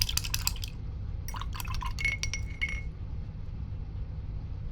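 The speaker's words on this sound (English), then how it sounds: "I'm going to wash my brush." A paintbrush being rinsed in a water jar during an acrylic painting session: light clinking taps of the brush against glass and soft sloshing water in short bursts, close and quiet over a steady low background hum.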